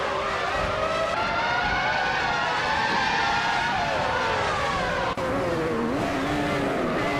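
Several race cars roar continuously in a racing video game, engines rising and falling in pitch as they overtake and chase each other at close range, loud and steady with no talk.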